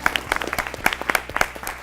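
A school quiz competition audience gives a brief round of applause for a team, scattered claps that are fairly faint and close together.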